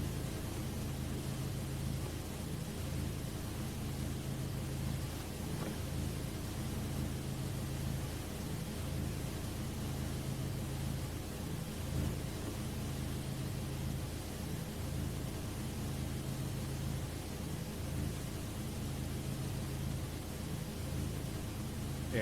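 Steady white noise: a constant, even broadband hiss with a faint low, rhythmic rumble beneath it, unchanging for the whole stretch with no voices.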